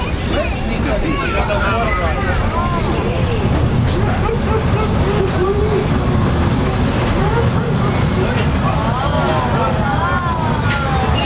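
A 1992 Walt Disney World Railroad train ride, with a continuous rumble and rhythmic clatter of rail cars rolling along the track and a crowd of passengers chattering throughout.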